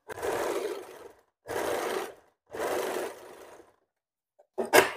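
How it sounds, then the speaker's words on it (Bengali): A sewing machine stitches a straight seam in three steady whirring runs of about a second each, separated by short pauses and followed by a brief burst of handling noise, close and fairly loud with no talking. "সোজা সেলাই করে নেবে।"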